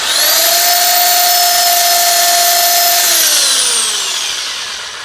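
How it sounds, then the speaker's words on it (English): A large wooden bowl on a lathe being sanded with 400 grit sandpaper: a loud, steady high-pitched whine that holds level for three seconds and then falls in pitch and fades as the lathe spins down, with no talking. "This is 400 grit. And that's it. Sand a little bit from this way."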